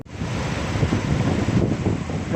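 Steady wind blowing near a canal by a roadside shrine on a rainy day, a continuous broadband rush with buffeting on the microphone, holding at an even, fairly loud level throughout.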